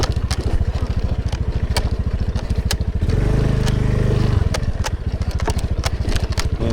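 Motorcycle ridden off-road on a rough track on Bantayan Island, Cebu, its engine thumping steadily and close with rattles and jolts from the bumpy ground, rising in a brief surge midway.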